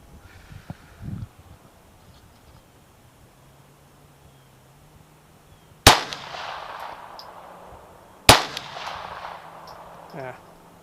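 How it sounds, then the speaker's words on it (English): Two loud, sharp pistol shots from a Kel-Tec P17 at an outdoor shooting range, spaced a few seconds apart, each with a short echoing tail, after a quiet stretch with faint background noise. "my shots are going to be all over the place with me holding with one hand"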